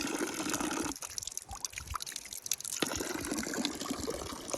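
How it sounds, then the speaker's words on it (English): Fresh water pours and splashes steadily from a public fountain in Switzerland, a continuous close gushing that dips briefly before resuming at full strength. "In Switzerland I love the fact that there are fountains everywhere."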